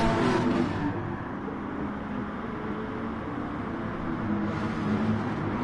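Race car engines in a racing video game at a race start at Interlagos, a loud, continuous, roaring engine drone that holds steady throughout, with a slight dip and rise in intensity.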